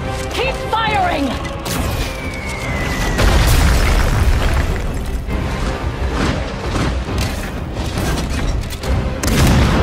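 Deep cannon blasts thunder through a video game cinematic battle scene, heavy booming explosions that roll one into another over a dense, loud din of combat and shouting voices.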